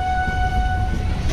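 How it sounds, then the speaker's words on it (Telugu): A train departing Yellamanchili sounds a long, steady horn that holds a clear tone throughout, over a low rumble of the moving rake. "ఇప్పుడే ఎల్లమంజిల నుంచి అయితే తీసాడు మన బండి"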